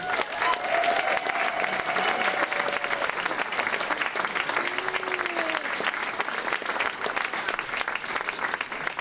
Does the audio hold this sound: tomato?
no